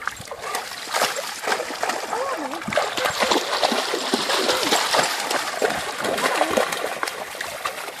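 A dog swims and splashes in a lake, giving steady, close, busy splashing and sloshing water throughout, with people talking over it.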